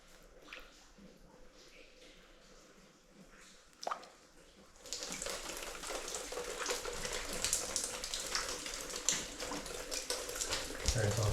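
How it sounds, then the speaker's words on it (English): Water drips and trickles inside an old mine tunnel a couple hundred feet from the entrance, a faint, scattered patter that grows into a denser, brighter wash of droplets partway through, with no talking. "There's all the dripping that I saw,"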